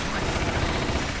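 Rapid bursts of Uzi submachine-gun fire in a Resident Evil video game, loud and dense for a brief moment with no pause between shots.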